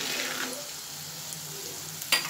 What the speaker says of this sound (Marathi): आता हे तेलात चांगले परतून घेऊयात